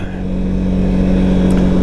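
A 2023 Can-Am Outlander 700 XT ATV engine revving up close, a loud, steady mid-pitched drone that climbs slightly in intensity, with no talking.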